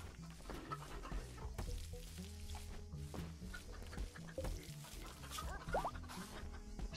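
A chicken in the RimWorld video game clucks in short bursts amid a busy bed of other game sounds and rustling, at moderate volume.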